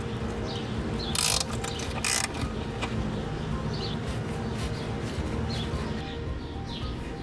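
A ratchet tightens an upper control arm bolt on a Honda CRX during a camber kit install, giving a run of quick clicking strokes with a couple of louder bursts, while birds call faintly in the background.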